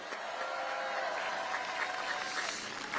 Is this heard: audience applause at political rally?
yes